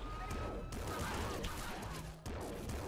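An electro gun fires rapidly in the top-down shooter Nuclear Throne Ultra Mod, crackling zaps and bursts piling over busy game effects, with a short dip in intensity before the firing resumes.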